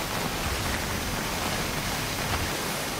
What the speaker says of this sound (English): We won't last long in a heavy fall like this. Find cover from the rain on the double.